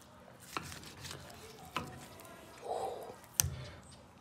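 A knife trimming the fat cap from a cooked three-pound steak, with a few sharp isolated clicks of the blade meeting the cutting board spaced about a second apart, quiet and close.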